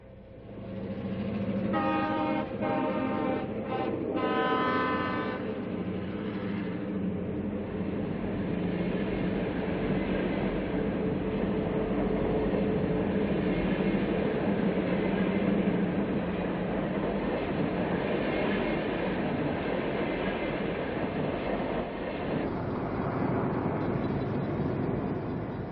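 A diesel-hauled California Zephyr passenger train rolls past beneath the Castle Gate rock towers near Helper, Utah, with a steady loud rumble throughout and a long horn blast early on.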